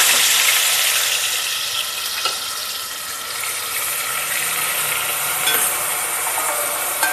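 Ground onion paste sautés in a pan over high heat after mustard seeds and curry leaves, producing a loud, continuous hissing sizzle with a couple of faint utensil knocks.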